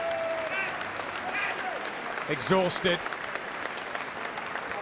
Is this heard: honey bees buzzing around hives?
no